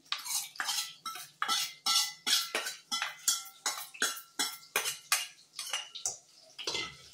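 Spoon stirring drumstick-leaf dal in a metal pot, a steady run of about twenty quick scraping clinks in even rhythm, close and fairly loud with no voices.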